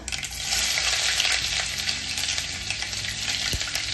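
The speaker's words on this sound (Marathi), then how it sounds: "तेल छान तापलं की त्यात थोडी मोहरी त्यानंतर बारीक चिरलेला कांदा" Mustard seeds and finely chopped onion frying in hot oil for Nagpur-style Saoji egg curry, a steady close, loud sizzle with crackling, no voices.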